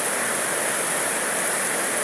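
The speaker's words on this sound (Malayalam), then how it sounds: "ശക്തമായ മഴയാണ് ആർക്കും പുറത്തേക്ക് ഇറങ്ങാൻ പറ്റില്ല" Heavy rain pours down steadily in a dense, unbroken hiss, close and loud throughout with no voices.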